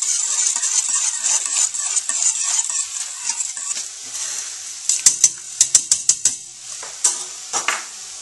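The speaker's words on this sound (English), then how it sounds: "my roux and vegetable mixture to my stock. Okay, as it goes in, about a spoonful, I use a whisk" A whisk stirs a roux and vegetable mixture into stock for Cajun chicken and sausage gumbo, giving steady scraping and swishing against a pot, then a run of sharp metallic clinks and taps toward the end, close and without talk.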